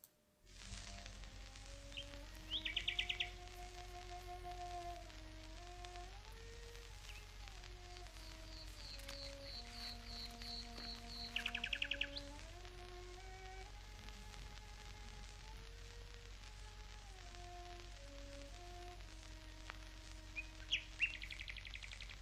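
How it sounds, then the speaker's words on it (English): A nightingale sings in warbling, stepped phrases with occasional quick trills, steady and clear against a faint constant background hum, with no talking. "when she plays the London Derriere or Danny Boy, the bird begins to sing"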